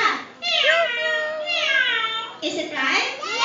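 Children mimic a cat's meow at a puppet show held at a buffet restaurant, several drawn-out, sliding meows in a row, close and clear.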